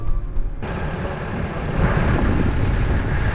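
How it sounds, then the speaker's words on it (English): Strong wind roars outdoors during a snowstorm, a dense steady rush that jumps suddenly louder after a quieter start and stays heavy throughout. "it's windy out"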